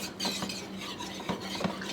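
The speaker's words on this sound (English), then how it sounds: "I was using this metal whisk in this good pot" A metal whisk beats melted butter and flour in a good pot, producing a continuous close scraping swish with light clinks against the metal as it works, with no voices.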